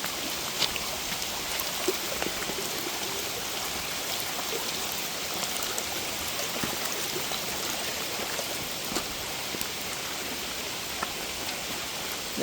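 Heavy rain pours steadily through a forest canopy along a long-distance hiking trail, a dense, constant hiss with scattered drips and patters on leaves, close and unbroken, no voices.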